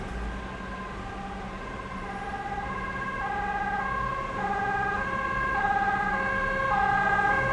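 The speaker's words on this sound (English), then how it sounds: "Sirens" A wailing emergency siren sounds continuously, rising and falling, fairly loud over steady traffic rumble, with no voices.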